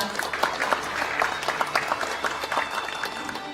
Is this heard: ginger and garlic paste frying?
no